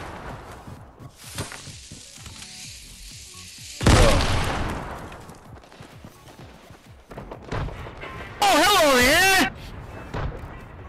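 Fortnite gunfire comes in a few bursts, including a loud booming blast and a sharp, dense burst later. Game effects play between the shots.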